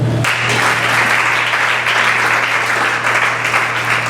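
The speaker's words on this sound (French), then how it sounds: "Est-ce qu'on peut acclamer pour eux?" A conference audience in Kinshasa bursts into loud, sustained applause for a married couple, a dense wash of clapping that starts abruptly and rolls on evenly over a low hum.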